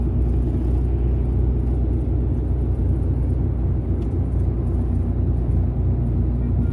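An old Honda-powered trike on the road, a steady, close engine rumble with a constant low drone throughout and no clear rise or fade as it passes.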